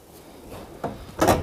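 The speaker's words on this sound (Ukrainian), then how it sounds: "Все, ця дверка ось так закривається." A door on a 1996 Fiat Ducato van is pushed shut with a soft rubbing slide and then a single close, firm thud at the end.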